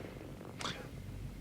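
A cat purrs in a low continuous rumble, close and quiet, with a brief higher hiss or squeak partway through.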